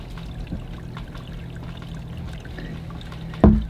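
Water pours steadily into a bathroom drain line, a continuous low trickle over a faint hum, ending with a sharp knock just before it stops.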